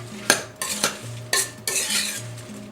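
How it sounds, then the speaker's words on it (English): Spoon stirring seasoned food coated in crushed red pepper flakes, a handful of scraping, clinking strokes against a bowl or pan, close and clear with no talk. "We're going to stir them up and make sure that they are coated"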